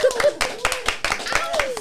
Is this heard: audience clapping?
yes